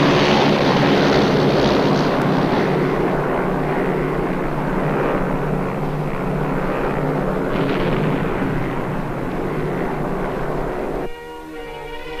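A wartime bomber plane flies overhead on a bombing practice run, a loud, sustained droning engine roar that holds steady and then drops off abruptly near the end.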